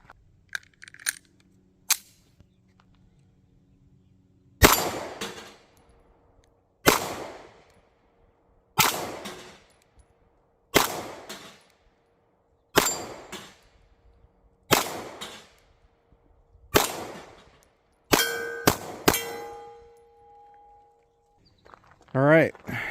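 Ruger Max-9 pistol fired slowly and steadily at 15-yard targets, sharp loud reports spaced a couple of seconds apart with ringing decays, a quick pair near the end, and some faint talk between shots.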